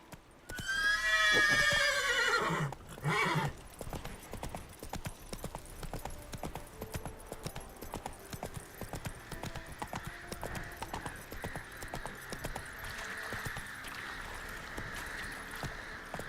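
A horse in The Witcher 3 video game whinnies loudly, then its hooves settle into a steady, rhythmic galloping clip-clop that carries on to the end.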